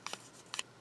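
Scissors snipping the corner of a paper card for a mini postcard junk journal, two quick pairs of soft, close cuts in a quiet room.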